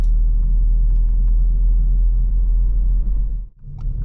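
A manual car pulls away as the driver adds gas while gently raising the clutch. The engine gives a steady, loud low rumble that dips briefly near the end before picking back up.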